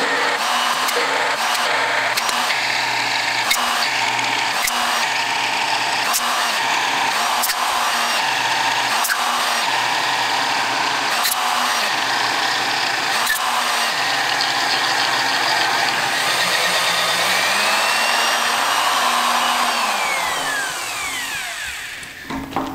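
A drill press boring a 47/64 inch hole through a thick cast iron fabrication table, a steady loud mechanical grind with repeated rhythmic chatter that runs continuously and winds down near the end.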